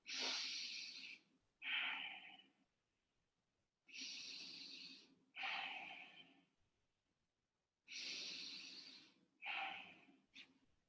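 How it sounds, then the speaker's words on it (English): Three slow, deep breaths taken with eyes closed, each a long airy inhale followed by a breathy exhale, evenly spaced and close to the mic in an otherwise quiet room, with no talking. "I'm going to close my eyes and take 3 deep breaths"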